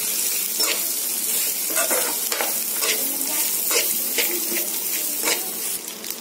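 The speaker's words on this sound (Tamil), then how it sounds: "நல்லா ஒரு மிக்ஸ் பண்ணிக்கோங்க." Veld grape chutney mixture stirred in a frying pan, a soft continuous sizzle broken by repeated scraping strokes of the spoon at an uneven rhythm, close up with no voices.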